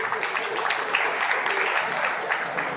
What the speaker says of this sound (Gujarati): તમને તાળી તો પાડતા આવડે છે